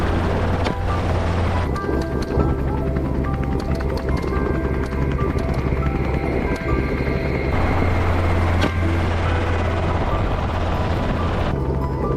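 A helicopter flies low over a herd of wild boars in the Australian bush, a loud continuous rotor roar with throbbing low thump filling the whole stretch.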